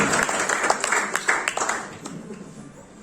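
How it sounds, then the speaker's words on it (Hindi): An audience at a business event in Bihar applauds to welcome guests, with dense clapping that fades gradually while a voice carries on over it. "एक बार जोरदार ताली से स्वागत कीजिए"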